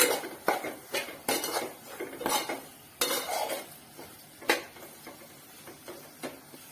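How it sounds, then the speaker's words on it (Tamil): Chilli and coriander powder masala sautéing in a pan for a mushroom gravy, with a spatula giving sharp, irregular scrapes and clinks against the metal over a faint, low sizzle, close and with no talking. "இதை நல்லா ஒரு 1 நிமிஷம் வதக்கி எடுத்துக்கலாம்"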